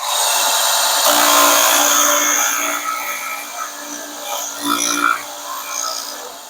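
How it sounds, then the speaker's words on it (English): A Wen 6502T 4x36 belt sander, 4.3 amp, runs with its sanding wheel smoothing the end of a piece of wood, giving a steady loud whir with brief louder bursts as the wood is pressed in. "I can use the wheel here if I want to do the ends"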